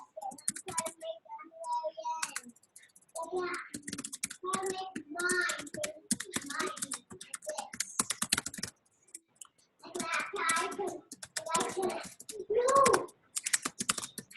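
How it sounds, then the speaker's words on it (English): Typing on a computer keyboard while composing an email, with bursts of key clicks running through the whole stretch alongside a speaking voice. "I can't type and talk, so I'll just type it."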